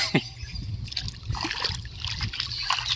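Irrigation water trickles and splashes through a channel in a cucumber field, a steady close wet babble with small splashes throughout.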